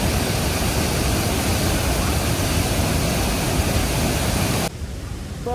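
Devi's Fall waterfall (Patale Chhango) in Pokhara, a loud, steady, close roar of rushing water that fills the scene, then drops to a softer level near the end.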